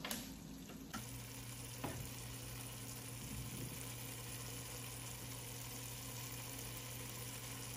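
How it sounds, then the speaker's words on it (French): Okra and mushroom sauce simmers and sizzles steadily in a pot, a continuous bubbling fry noise with a brief clatter near the start and faint stirring knocks, no voices. "Je vais laisser encore mijoter 5 minutes"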